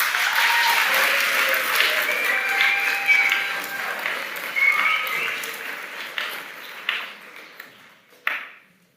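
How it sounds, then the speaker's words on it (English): A round of applause from the audience at a school graduation ceremony, a dense crowd clapping that swells then thins out, ending in a few last scattered claps before silence. "a round of applause to Chloe Street and Kelly Leonard for putting the slideshow together"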